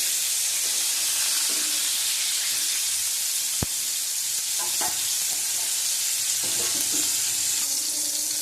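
Pointed gourd and potato frying in hot oil, a steady loud sizzle and hiss throughout, with occasional stirring scrapes and a sharp click partway through.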